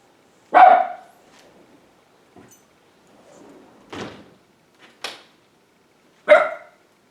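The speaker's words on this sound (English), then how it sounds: "That's my dog just barking at something." A dog barks indoors in a few sharp, separate bursts, loud and close, with quiet gaps and faint thumps between barks.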